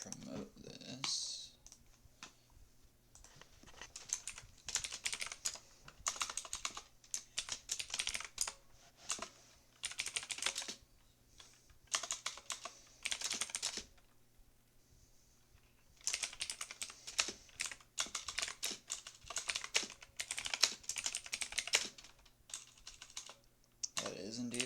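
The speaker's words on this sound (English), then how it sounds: "That is indeed my gaming keyboard." Rapid clattering keystrokes on a gaming keyboard come in bursts with short pauses, fairly close, with a steady low hum underneath.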